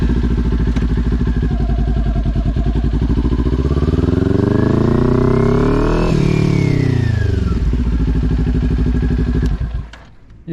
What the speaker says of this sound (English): So we have to give it some throttle.